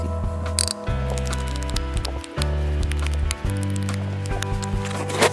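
Snowshoe binding strap being ratcheted tight onto a shoe, a close series of rapid clicking ratchet bursts with brief pauses between pulls.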